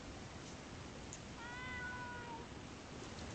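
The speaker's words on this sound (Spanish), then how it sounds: "El gato." A cat meows once in the Ib video game, a clear, rising-then-falling cry heard alone over a steady background hiss.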